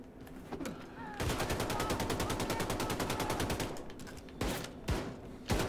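Rapid, evenly spaced machine gun fire in Wolfenstein II: The New Colossus rattles on loud and close for several seconds, followed by a few separate heavy shots and impacts.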